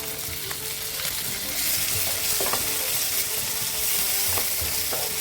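Chopped tomato stirred into a sizzling masala in a pan: steady frying hiss with occasional scraping stirs, close and continuous, no talking.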